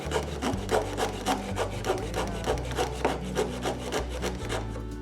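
A hand saw cuts an angled end on a wooden board held tight in a miter box, making about a dozen even, rasping back-and-forth strokes, close and alone.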